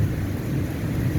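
Steady heavy rain during a thunderstorm in Tocoa, with a deep continuous rumble of thunder beneath the dense hiss of falling water, loud and without voices.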